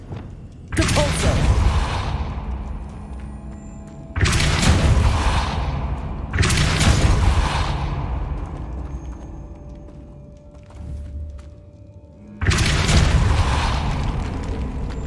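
Four forceful blasts of the Depulso spell in Hogwarts Legacy, each a loud booming burst that decays over a couple of seconds, spaced irregularly with no talk between.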